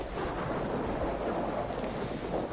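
Rain and thunder in the video game DayZ: a dense, continuous roar of rainfall with a low rumbling thunder underneath, steady and loud for the whole stretch, with no voices.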